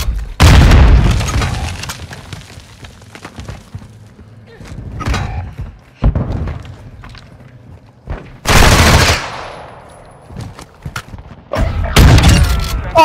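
Heavy blasts and gunfire from a Modern Warfare 2 match, where a rocket explodes. Several loud bursts are separated by quieter gaps, with the biggest boom landing near the middle and a final blast at the end.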